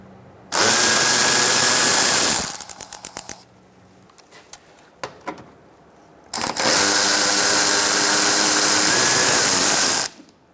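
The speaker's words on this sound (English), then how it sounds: "I'm going to use a 10mm socket to take out this bolt." A power tool with a 10mm socket backs a bolt out on a 2004-2009 Mazda 3 underbody, giving two long, loud, steady whirring runs close by, separated by a few ratchety clicks and taps.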